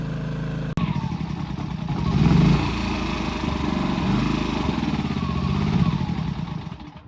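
A 2000-watt inverter generator running with its eco throttle on, a steady close engine drone that swells slightly at moments and then settles, after a sharp click near the start, with no talking.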